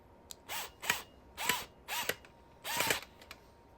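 A screwdriver drives screws into the brackets of a wooden marble clock stand, producing about five short ratcheting bursts with brief pauses between them, close and fairly quiet.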